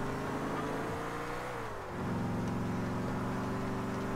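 An old, battered car in GTA 4 drives steadily, its mid-pitched engine droning loud and continuous, pitch dipping briefly then rising again as it keeps moving, with no talking.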